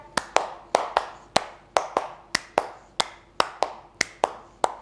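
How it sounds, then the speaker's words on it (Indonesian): A class of students claps a five-beat pattern three times over, producing sharp, close, evenly spaced hand claps in three clear groups with brief pauses between them. "Kalau misalkan tepuk lima tiga kali, berarti langsung aja"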